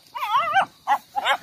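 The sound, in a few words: dog barking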